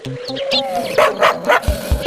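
A dog barks in an animated cartoon: a series of loud, sharp barks in quick rhythm after a short tonal lead-in, over a steady background.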